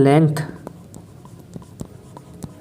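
Chalk or a marker writes on a board during a maths lesson on linear equations in two variables. After a brief spoken word, there is a series of short, soft taps and scratches with pauses between strokes.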